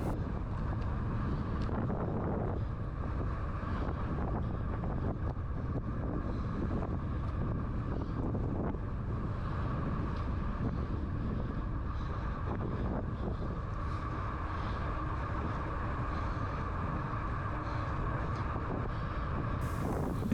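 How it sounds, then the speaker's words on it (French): Steady, loud wind buffeting a microphone while cycling into a three-quarter headwind on a slight climb during a time trial at Bonifacio, Corsica, a continuous roar throughout with no voices. "Donc là on a le vent qui est 3/4 face."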